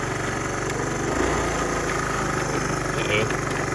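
A 1970 Honda Trail 90 engine, running but refusing to go into gear, idles in a steady, close, putter-like chug with a few faint clicks on top.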